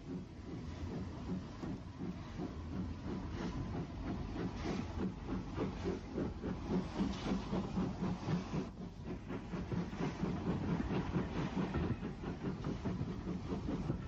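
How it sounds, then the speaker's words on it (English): Locomotive 18 Ningwood makes a spirited 1964 departure from St John's Road station on the Isle of Wight, with rhythmic, rising chuffing and hissing over rolling wheel clatter, fairly close and slightly muffled. "18 Ningwood makes a spirited departure from St John's Road in"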